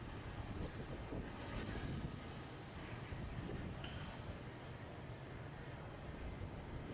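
A Turkish Airlines airliner at Melbourne Airport, a low steady jet rumble with wind buffeting the microphone, moderately distant and unbroken, with no one speaking.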